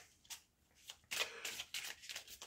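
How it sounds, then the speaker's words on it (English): Tarot cards are shuffled by hand nearby, giving quiet, papery riffles in short bursts, then a longer run of brisk flicking, with no talking. "So I'm just shuffling the cards."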